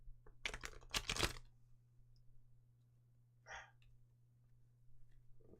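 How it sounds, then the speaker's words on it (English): A deck of playing cards being shuffled, a quick burst of riffling and fluttering card noise up close, then a short rustle a few seconds later over a steady low hum. "My shuffling skills are fading."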